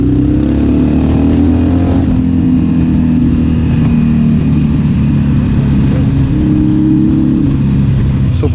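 Harley-Davidson 883 motorcycle rolling slowly in first gear through city traffic, a loud, steady low engine rumble with a slight rise in pitch partway through, under wind buffeting, with someone speaking over it.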